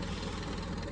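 Old tractor engine running loudly, a dense, steady diesel roar with a deep low throb and no voices over it.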